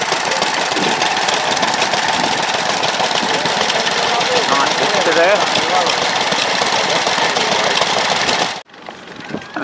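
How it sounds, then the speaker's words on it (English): Vintage steam engines ploughing a field at a ploughing match, giving a continuous rumbling, chugging mechanical drone with a knocking pulse that runs steadily for most of the clip before cutting off sharply near the end, with someone talking briefly. "we've got 2 steam engines ploughing"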